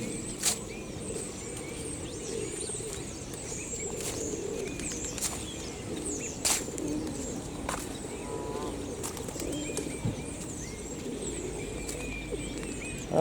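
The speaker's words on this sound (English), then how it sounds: "Plenty of pigeons here," Several pigeons coo in soft, repeated low phrases outdoors, heard close against a steady background hum, with sharp bird chirps scattered throughout.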